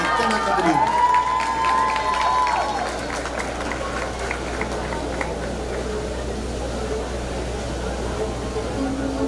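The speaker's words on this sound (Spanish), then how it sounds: "Fuerte el aplauso para Gabriel Espinosa de Macapulín." An audience at a traditional mariachi festival in Jalisco applauds and cheers for a performer, a crowd roar with clapping under an opening voice that trails into steady murmuring crowd noise.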